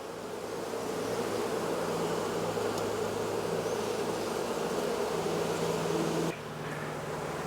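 Dense, steady buzzing of many honeybees lifted on a hive frame during a beehive inspection, a close continuous drone that drops slightly near the end.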